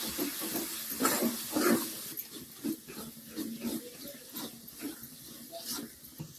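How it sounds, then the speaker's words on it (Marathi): Water poured into a pan of frying masala and oil for a spicy mince kofta curry: a soft, steady hiss and gurgle with sizzling, faint and close, without talk. "आता यामध्ये आपण पाणी टाकून घेऊया. थोडंसंच पाणी टाकून घ्यायचं आहे."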